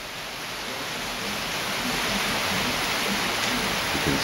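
Steady morning rain in Lei Shan falls as an even, dense hiss that swells slightly over a few seconds, with no voices.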